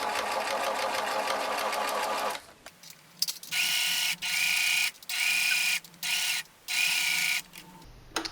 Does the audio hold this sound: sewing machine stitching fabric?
yes